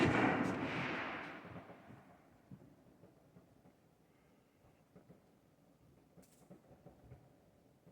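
Distant Fourth of July fireworks rumble and thud from far off, a loud boom at the start fading into scattered low pops and crackles that continue irregularly for several seconds.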